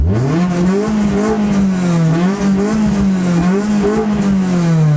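A cheap, roughly 80-horsepower Honda Civic engine revs hard and close with a buzzy, raspy exhaust, pitch rising and falling through several throttle blips while holding a high whine, with no talking.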